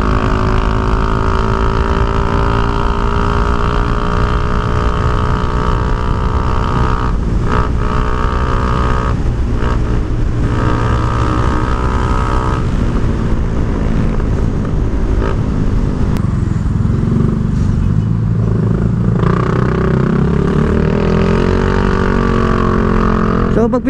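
A Yamaha Mio i 125 scooter fitted with an Apido V3 exhaust pipe runs loud and close, its engine drone rising and falling with the throttle over a steady rumble, with no talk over it.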